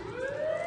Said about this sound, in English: Okay, that's the siren, that's not the dog.